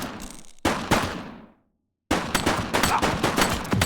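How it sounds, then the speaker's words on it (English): Rapid bursts of gunfire from a police shooter video game set in a city precinct, loud and close, with a brief silent gap before another sustained volley. "He's shooting!"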